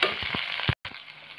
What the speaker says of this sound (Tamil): இப்போ இது வதங்கிட்டு இருக்கும் போது